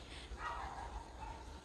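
A dog barks and yips a few times, quiet and somewhat distant, against a low background rumble.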